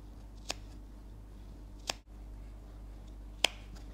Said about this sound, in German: Wir schneiden uns jetzt noch die Knopflöcher auf.